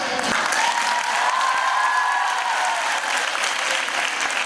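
Loud, sustained applause from a crowd, with a steady clatter of many hands clapping.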